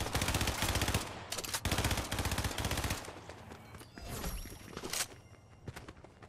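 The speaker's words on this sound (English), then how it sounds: "He's shooting through a window up here." Rapid automatic gunfire in the Fortnite video game, loud and sustained bursts for the first three seconds, then scattered shots and thuds with game ambience.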